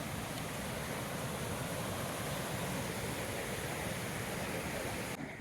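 Steady rushing water of McCabe Creek in the Sierra Nevada, a dense continuous broadband wash like a fast-flowing creek, loud and close, with no voices.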